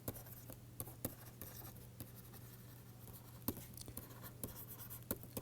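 Pen or marker scratching out a drawing on a board or tablet during a physics lecture on lattice vibrations, a quiet run of irregular strokes and taps with no talk.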